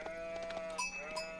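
Sheep bleat in a loud, crowded flock from the strategy video game Age of Empires 4, overlapping calls rising over a steady game-ambience bed, with two sharper bleats standing out.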